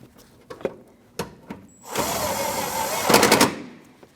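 A power tool drives an 8mm fender bolt on a Jeep Cherokee, a close burst of rapid whirring and ratcheting lasting about a second and a half, framed by scattered clicks and knocks of handling.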